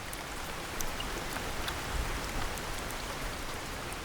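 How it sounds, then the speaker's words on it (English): Heavy rain pours steadily over a marshy wetland where pitcher plants grow, a dense, continuous hiss with scattered close droplet taps, with no voices. "heavy rainfall can inundate their marshy habitat"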